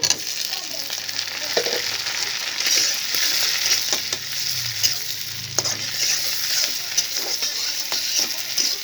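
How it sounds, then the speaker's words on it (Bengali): Shrimp frying in hot oil with browned onions, a steady close sizzle with occasional stirring scrapes and clinks throughout. "চিংড়ি মাছটা আমি তেলের মধ্যে একটু ভেজে নিচ্ছি।"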